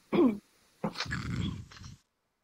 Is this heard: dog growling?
yes